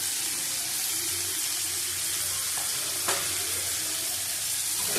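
Potato curry with turmeric and Kashmiri chili powder stir-frying in a pan, a steady broadband sizzle with occasional scraping stir clicks, close and continuous with no talking.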